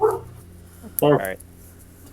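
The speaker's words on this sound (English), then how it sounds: "That's my dog." A pet dog gives a short, sharp bark at close range, then it is quiet. Someone speaks briefly just before it.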